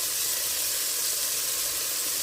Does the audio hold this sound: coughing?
no